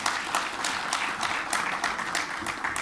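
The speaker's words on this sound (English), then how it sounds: "Let's give another round of applause to Mark" Audience applause at a winter school session, many hands clapping in a steady, moderately loud wash with brief swells, heard alone without talk.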